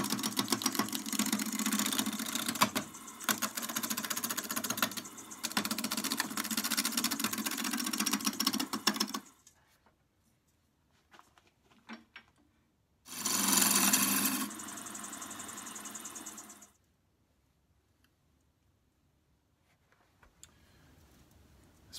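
A wood lathe spins a very hard wood piece at 1,000 RPM with a steady, loud motor hum for several seconds. The hum cuts out, then rises again in a shorter burst before fading to near silence.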